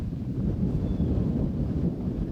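Steady wind buffets the microphone outdoors on a disc golf course at a pro tournament, a continuous low rumble with no clear gusts rising or falling and no talk.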